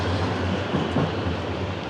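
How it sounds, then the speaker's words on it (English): A tram rolls past on its rails in Edinburgh on a rainy day, a steady close rumble with faint clacking that holds for the whole stretch, no voices over it. "Tram."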